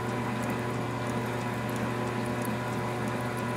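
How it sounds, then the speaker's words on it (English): A carbide tip reamer turning at 70 RPM, reaming a hole to 0.502 inch, makes a constant machine drone with a steady hum and faint ticking throughout, and no talking. "This is a carbide tip reamer, and we're going 70 RPM."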